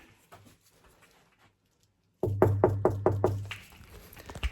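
Several sharp knocks land in a quick run on a hotel guest room door, room 301, close and loud after a near-silent pause, with a faint murmur of voices before it and a little room noise trailing afterward.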